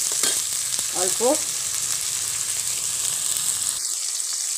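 Tomato and green chilli frying in a pan give a loud, steady sizzle close by, with a short spoken word early on and the hiss dipping slightly toward the end.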